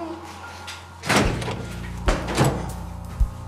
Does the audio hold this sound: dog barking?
no